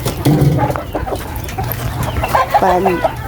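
Pet chickens cluck close by in short, uneven bursts, with a few louder calls standing out over a quiet background.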